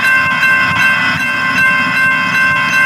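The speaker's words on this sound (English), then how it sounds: "pretty sure that is a train coming towards us" A loud train rumbles close by toward a school bus stuck on the tracks, with a sustained, blaring horn chord sounding over the steady roar of the wheels.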